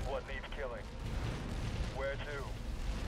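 Artillery barrage in the real-time strategy game Halo Wars, a dense, continuous rumble of distant explosions, with game voice lines cutting in over the booming.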